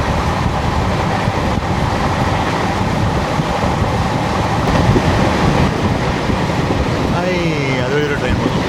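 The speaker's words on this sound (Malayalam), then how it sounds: "അതൊരു ട്രെയിൻ പോകുന്നു. അത് ഓഖ തൂത്തുക്കുടി വിവേക് എക്സ്പ്രസ് ആണത്." The Okha–Tuticorin Vivek Express rolls past on the adjacent up line, a loud, steady rumble of wheels and carriages with rhythmic clickety-clack running continuously throughout.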